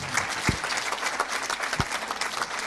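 Audience clapping at a Breizh Awards 2023 ceremony in Brittany, a steady dense patter of many hands filling the room, with a couple of sharper nearby claps standing out and no voices over it.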